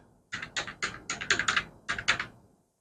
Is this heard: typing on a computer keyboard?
yes